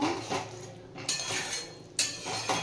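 A spoon scrapes and clinks against a pan while stirring soybean kofta curry after ghee is added, several close metallic strokes in an uneven rhythm.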